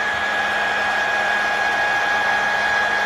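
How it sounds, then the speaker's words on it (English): Blow dryer running on its cool setting to dry freshly applied liquid lipstick, a steady whirring hum with a constant tone, close and unbroken throughout, no talking. "use a blow dryer on cool heat"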